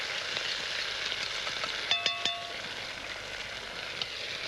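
Garlic frying with onions and pork in a pan, a soft steady sizzle with a few quick metallic taps of a utensil partway through, fairly quiet and close.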